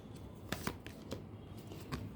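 Tarot cards being shuffled by hand, a quiet run of soft riffling and flicking with a few sharper snaps, close and faint with no talking.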